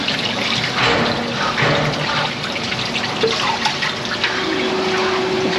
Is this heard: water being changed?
yes